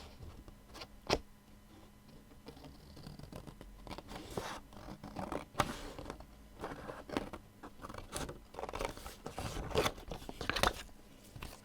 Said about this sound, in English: so then you just need to trim off these edges.